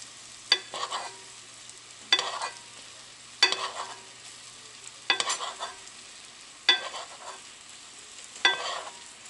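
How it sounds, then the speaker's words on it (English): Butter browning in a pan for a trout sauce sizzles in repeated bursts roughly every 1.5 seconds as it is stirred, each stroke bringing a sharp crackling flare that fades back to a softer hiss. "Keep doing that until the butter browns."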